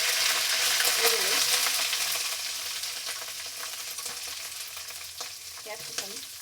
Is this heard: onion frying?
yes